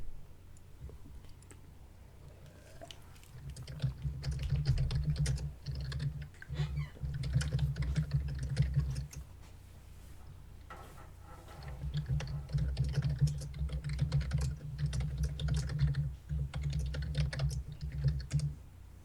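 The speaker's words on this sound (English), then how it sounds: "That furious typing. Yeah, I think it's just the fact that he's got the keyboard in such close proximity to the mic." Furious, rapid typing on a computer keyboard sitting very close to the mic, with bursts of dense clicking and thumping keystrokes separated by a short quieter pause in the middle, fairly quiet overall.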